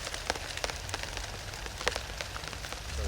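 Rain falls on an allotment as a steady patter of scattered drops tapping surfaces nearby, soft and continuous with occasional sharper hits and no talking.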